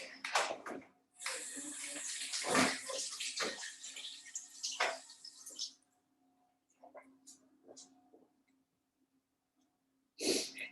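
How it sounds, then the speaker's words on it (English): Hands rinsed under a running kitchen tap in a cooking setting, giving faint splashing bursts for a few seconds. The water then stops, with quiet small noises, and comes on again briefly at the end. "So I'm gonna have to rinse my hands again"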